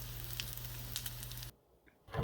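A patty frying in an oiled skillet over moderately low heat, with a steady close sizzle and low hum that cuts off sharply partway through, leaving near silence before a brief burst of noise returns.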